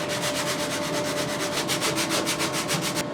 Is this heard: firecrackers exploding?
no